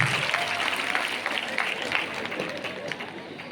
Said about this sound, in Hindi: एक बार इन सभी का जोरदार तालियों के साथ स्वागत करिए।